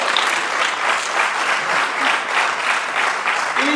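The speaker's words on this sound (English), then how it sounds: "Give them a round of applause." Audience applause at a business expo fills the room, steady dense clapping sustained throughout at a loud, even level with a faint crowd murmur underneath.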